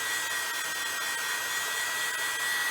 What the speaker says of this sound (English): just watching this heat embossing work